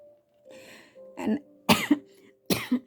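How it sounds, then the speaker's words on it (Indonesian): Three sharp coughs in a row, close and fairly loud, each a harsh burst, with a faint sustained hum in the background. "Maaf ya kakak batuk."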